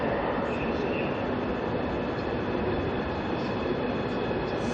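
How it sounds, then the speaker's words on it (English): A high-speed train pulls into a busy Guangzhou rail station, a steady, loud rolling rumble and airy hiss filling the whole stretch without letup. "Here is the arrival of our high-speed rail."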